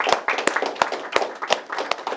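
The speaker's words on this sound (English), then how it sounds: "Mr. Smith, Mr. David Margaryan, give him a hand." A small group claps at a private entrepreneur event in Los Angeles, with sharp distinct hand claps landing in an irregular rhythm rather than a dense roar of applause.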